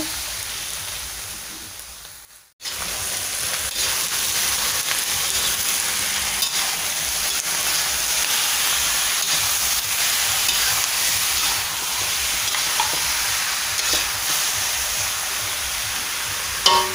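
Chicken frying in a pan for chicken caldereta: a sudden loud sizzle as the pieces go in after a brief pause, then a steady dense crackle and hiss that runs on close by, with occasional faint clinks.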